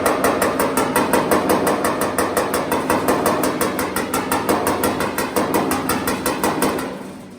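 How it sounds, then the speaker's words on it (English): A hammer taps steadily and rapidly on heated car body sheet metal during heat shrinking, working from the outside in. The strikes are loud, evenly spaced and continuous for several seconds, with no voices, before trailing off at the end. "I'm going to slowly tap from the outside in."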